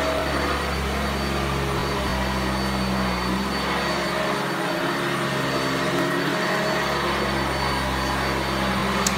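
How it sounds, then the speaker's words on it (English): A vacuum cleaner runs steadily on a bedroom carpet, giving a loud, continuous motor drone with a whooshing hiss that holds through the whole stretch without pause. "I have not used this vacuum"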